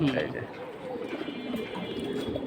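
Pigeons at a pigeon market coo steadily and close by, in a run of throaty overlapping calls, while people talk in the background.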